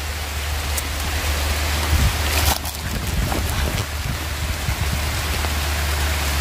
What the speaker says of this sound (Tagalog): Yan o, ang aga naman ng ulan.